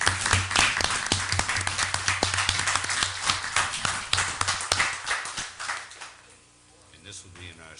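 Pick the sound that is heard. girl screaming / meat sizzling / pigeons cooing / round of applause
round of applause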